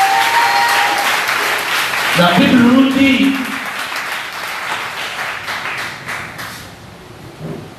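A congregation at a French-language church service applauds and cheers in a continuous crackle of clapping that swells and then slowly fades, while someone speaks over it.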